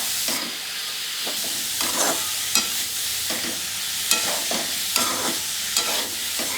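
Modak filling stirred in a hot pan over a raised gas flame, a steady sizzle and hiss with the scrape of the spoon pushing through it at uneven intervals, up close and with no voices.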